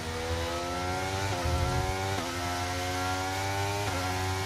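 A damaged race car engine in F1 23 drones at high revs with a steady buzzing, harmonic whine. The tone dips briefly a few times as if shifting, and the sound stays loud and continuous throughout.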